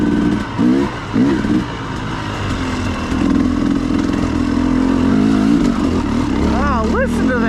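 KTM 300XC-W two-stroke dirt bike, carbureted and fitted with an RK Tek head, idling and blipping nearby with a loud steady putter and a few quick revs rising near the end.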